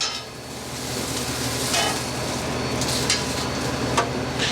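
Vegetables for a grilled vegetable paella sizzle steadily on a grill, a broad continuous hiss with a few faint scrapes and taps of a utensil.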